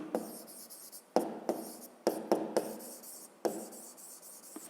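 A pen scratches across the pages of a maths exercise book in quick, rubbing strokes, with several sharper taps as lines start, close and quiet with no talking.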